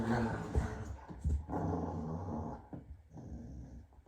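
Low, rumbling growls from dogs close by, rising and falling in a few rough bursts over a few seconds.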